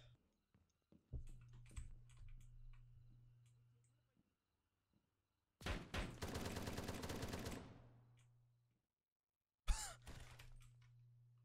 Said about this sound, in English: I just gun those motherfuckers down.